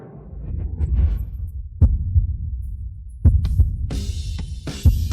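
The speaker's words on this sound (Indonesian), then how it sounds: "jantung Anda berdetak sangat cepat" A fast heartbeat, heard as deep low thumping pulses with a few sharper beats standing out over a continuous murmur-like hum, close and steady, without speech.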